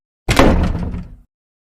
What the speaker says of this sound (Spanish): De repente la puerta se cerró de golpe